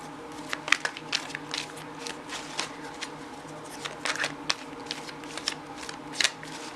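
A deck of tarot cards is shuffled by hand during a card reading: a continuous run of quick, crisp riffling and slapping bursts, close and moderately loud, with no talking over it.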